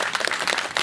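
A brief burst of audience applause at a kids' dance festival: a crowd claps quickly and steadily for under a second.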